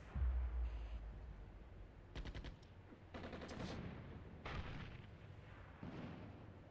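Mortar fire in the modern wargame Armored Brigade II, Scandinavian battle: a deep low boom opens, then scattered crackling bursts and muffled distant blasts follow at irregular intervals, fairly faint throughout.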